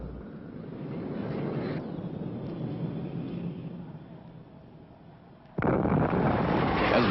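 Explosions from a U.S. Air Force Phantom jet air strike on an Army exercise target area: a loud, continuous rumbling roar that eases off, then a sudden heavy blast swells back up near the end. No voices.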